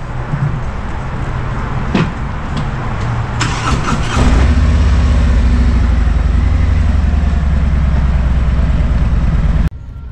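Motorcycle engines run on a desert ride toward Borrego Springs, California: a few clicks and revs, then a loud steady low engine drone that holds for several seconds before cutting off near the end.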